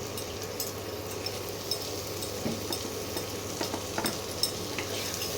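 Potatoes sizzling and being stirred in a spice masala in a pan, a soft continuous fry hiss with light scraping and occasional clinks, fairly quiet and steady throughout.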